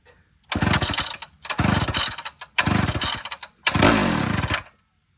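Chainsaw being pull-started, four rapid rasping cord pulls in a row, each a short burst of cranking engine noise, close and loud with silent gaps between.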